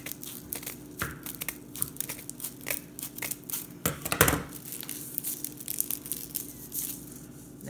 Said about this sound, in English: now I'm just gonna clip it down. Cut it down, cut it all off.